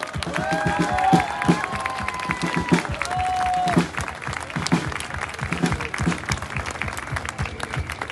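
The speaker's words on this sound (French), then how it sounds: "Les bénévoles, on peut les applaudir très très très fort." An audience applauds volunteers at a political rally, with steady clapping and cheering crowd noise spread across the room, loud and continuous, while voices call out over it.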